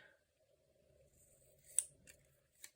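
Scissors snipping washi tape for a pastel summer planner spread, two or three faint, crisp cuts close by against a near-silent background.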